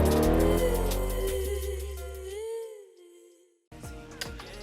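A loud car engine idles and revs outside a home, a heavy low rumble that rises in pitch and fades before cutting off, then returns rougher at the end.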